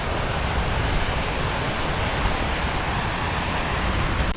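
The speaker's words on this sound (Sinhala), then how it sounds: "මේ තියෙන්නේ ලංකාඇල්ල පහලට කඩා හැලෙන තැන" Lanka Ella waterfall in Sri Lanka cascades down a rock face, a loud, dense, unbroken roar of rushing water heard close up with no other sounds.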